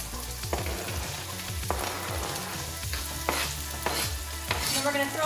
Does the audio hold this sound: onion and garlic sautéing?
yes